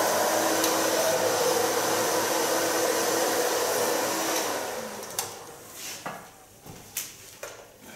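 A hair dryer blows steadily while drying a short haircut, close and loud, then cuts off, leaving a few light handling knocks and clicks.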